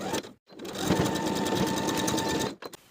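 Sewing machine stitching a dress lining seam with a half-inch allowance, one steady close burst of rapid needle chatter lasting about two seconds after a brief pause, with no talk.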